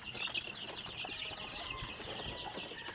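Chickens in a backyard coop behind a house cluck and chatter steadily at a moderate distance, with some wing flapping amid a busy farmyard background.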